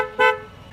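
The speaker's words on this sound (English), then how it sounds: "first of all, you have the normal sound of the horn" Standard horn of a 1987 Mercedes 560 SEL W126 gives one short, loud, harmonically rich honk that fades into quiet background.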